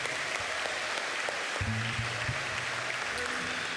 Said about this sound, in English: how about a round of applause for our speakers